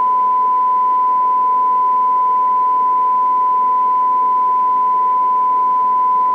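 A steady pure sine-wave test tone from a Dynaco Mark III tube amplifier under restoration hums continuously at a single pitch, unchanging and fairly loud, with faint background noise beneath it.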